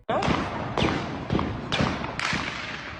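Security forces firing on protesters at D Chowk, heard as five heavy, evenly spaced booming bursts about half a second apart, loud and close against a constant background rumble.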